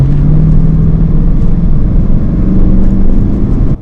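The Hemi V8 of a Dodge Magnum wagon accelerates with a loud, continuous low rumble heard from inside the car, steady and close throughout.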